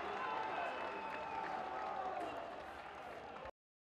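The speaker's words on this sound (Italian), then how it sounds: "cori comunque di incoraggiamento dei tifosi della Vastese sotto la curva d'Avalos" Vastese football supporters chanting encouragement beneath the Curva d'Avalos stand, a steady distant roar of massed voices that fades slightly before cutting off abruptly.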